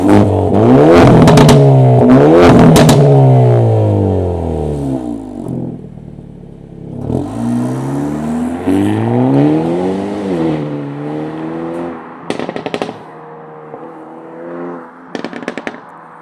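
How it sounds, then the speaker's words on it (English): Hyundai i30 N Sedan exhaust in Sport or N mode, loud revs rising and falling with sharp bursts of crackles and pops between them, dual-clutch upshift cracks near the end, no talking. "The exhaust starts to burble, crackle, and pop"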